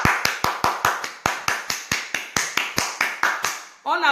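A small group claps in a slow, even rhythm, about sixteen sharp beats in unison, and a voice follows briefly at the end.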